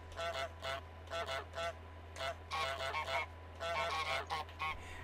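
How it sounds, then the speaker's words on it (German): A goose in Untitled Goose Game honks repeatedly in short clustered bursts over a constant low hum. "ich mache gerade ein paar Enten, damit du einen Remix machen kannst"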